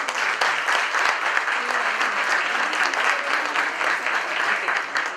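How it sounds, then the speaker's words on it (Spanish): Sustained audience applause at an international conference on colonial art, history and culture, a dense, steady wash of many hands clapping that stays loud through the whole stretch after a professor's presentation. "Un aplauso para el profesor."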